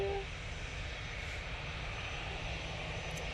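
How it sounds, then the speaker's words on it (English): EasyJet airliner departing Manchester Airport, a steady broadband engine roar that holds at constant loudness throughout with no voices over it. "That EasyJet now departing is off to the Isle of Man to lovely Laura"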